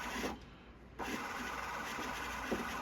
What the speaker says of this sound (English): So notice how fast the tape's printed.